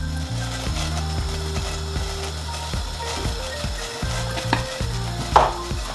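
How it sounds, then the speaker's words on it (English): Black pepper ground into a Jamaican escovitch fish marinade, a hand grinder ratcheting in quick repeated clicking bursts, close and steady with a brief sharper crack near the end. "I'm adding some black pepper as well"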